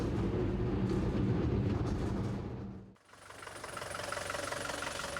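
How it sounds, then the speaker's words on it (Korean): A funicular mountain railway train climbs the steep hill up to Orvieto, its heavy mechanical rumble and rattling loud and steady, dipping briefly before resuming with a brighter, hissing clatter. "산 아래에서 오르비에또로 가는 단 하나의 방법은 가파른 산길을 오르는 산악궤도 열차밖에 없다"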